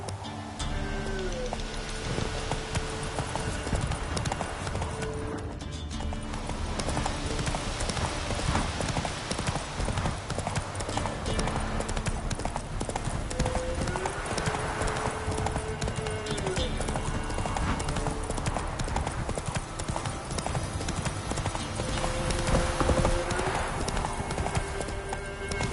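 Roach the horse gallops in The Witcher 3 with rapid, rhythmic hoofbeats, close and loud, along with occasional snorts and tonal game sounds layered over the steady pounding.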